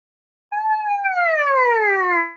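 A trumpet sounds a single sustained siren-like glissando, bright and loud, sliding smoothly downward in pitch over about two seconds, heard alone.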